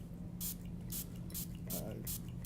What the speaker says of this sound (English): get the finest little spray bottle you can